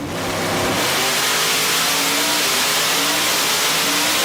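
A well-sorted nitrous-equipped car engine revs hard, climbing quickly from a burst into a loud, sustained roaring scream held close and steady.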